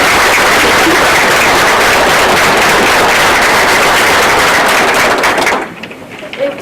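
Loud, dense applause from a school board meeting audience honoring the families of a middle school girls basketball team, sustained for several seconds before cutting off abruptly near the end.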